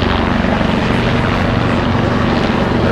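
An MV-22B Osprey tiltrotor flies overhead at the 2012 Farnborough Airshow, transitioning to helicopter mode, its loud, steady rotor thrum and engine roar filling the air without pause.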